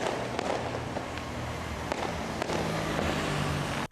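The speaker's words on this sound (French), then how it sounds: "pour manifester leur joie, les populations environnantes lancent les pétards" Firecrackers set off at midnight in celebration in Benin, a dense continuous crackle of distant and nearer bangs with sharp individual pops standing out over a steady rumble.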